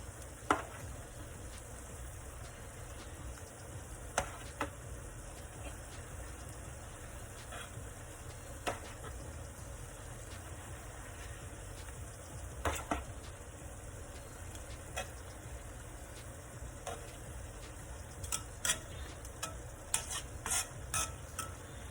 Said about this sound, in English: it's time to return our pork chops back to the skillet so they can finish cooking